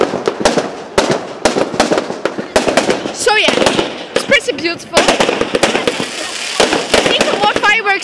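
Fireworks burst at a funfair in a rapid string of sharp, loud cracks and booms with crackling sparkles in between, while people talk over the display.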